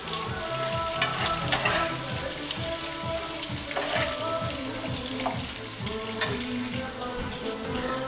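French fries fry in hot oil while Persian meat patties are cooked, making a steady, loud, close sizzle and crackle throughout, with a few faint clinks and no talking.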